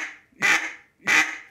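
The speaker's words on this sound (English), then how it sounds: "Get them good natural quacks out of it." Two sharp, raspy quacks blown on an RNT Calls DC Mondo duck call, evenly spaced and close, with no voices.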